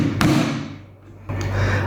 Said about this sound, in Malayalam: അതിനുശേഷം ഒരു ആണി അതേ കുത്തുക.